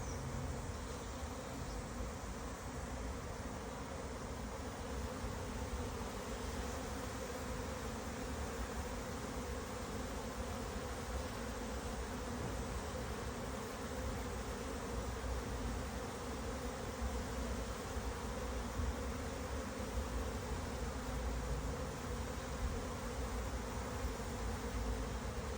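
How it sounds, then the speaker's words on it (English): A swarm of honey bees circles nearby and makes a continuous, even buzzing drone that stays steady from start to finish, with no talking. "you're seeing lots of bees starting to fly"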